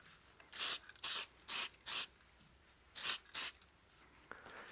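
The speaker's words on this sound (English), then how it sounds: "you want to make sure you get lacquer down in the natural area" Lacquer sprays onto a dyed wood platter in six short hissing bursts, four in quick succession, a pause, then two more, close and crisp with quiet gaps between.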